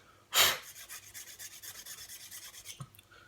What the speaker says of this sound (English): any file will do. Just take some off the whole area around here. Just take some material off.